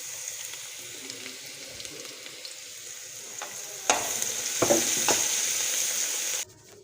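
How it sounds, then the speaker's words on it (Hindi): Garlic and ginger paste sizzles steadily in a pan with browned onions, a constant hiss that swells louder as it is stirred, with a few spattering bursts before the sound cuts out at the end. "अब हम इसमें लहसुन और अदरक की पेस्ट डाल देते हैं।"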